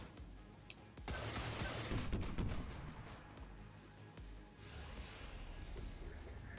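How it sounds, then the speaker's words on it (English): Rocket salvos from the strategy video game XCOM 2 boom and crackle in a dense, sustained burst of explosive blasts, loud and rumbling for several seconds before easing. "And that's another set of rockets."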